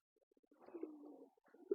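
Pigeons kept on a small farm coo softly in a series of short, low, throaty pulses that build into a longer rolling coo, faint and close, with no talking.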